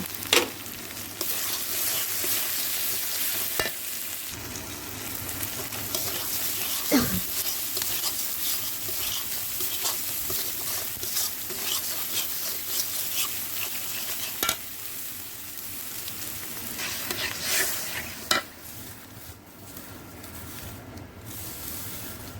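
Spices sizzling and being stirred in hot oil in a pan with chilli powder, salt and turmeric for a mustard hilsa fish curry with raw mango, a continuous close frying hiss broken by scrapes and clinks of the spoon.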